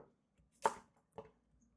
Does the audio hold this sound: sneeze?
no